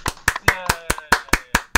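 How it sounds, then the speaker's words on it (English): Applause for a guest introduced on a game show, heard as a run of distinct, evenly spaced hand claps, fairly close and sharp, about eight in under two seconds. "Ladies and gentlemen, a warm round of applause, please, for Mr. Paul E. Niemeyer."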